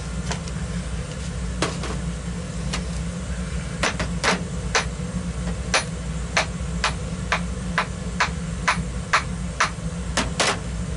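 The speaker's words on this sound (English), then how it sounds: "So you guys can see I'm using a brass hammer to do this." Sharp metallic taps from a brass hammer strike repeatedly at an uneven pace over a constant low engine-like hum, close and fairly loud, while working on a Honda ATC 200ES starter motor.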